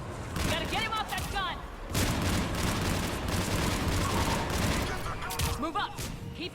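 Mounted gun firing in Mass Effect 3 amid a dense, continuous wash of battle gunfire and explosions, with shouted voices breaking through over the din.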